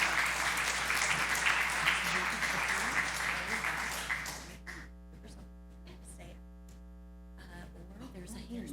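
Audience applause welcoming Dr. Toni Engram, a dentist, to the stage: a dense, steady clapping from a room full of people for about four seconds, then fading out to quiet room hum with faint movement.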